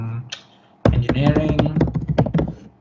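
Rapid keyboard typing on a computer, a quick burst of close, clicky keystrokes tapping in steady succession after a brief quiet start.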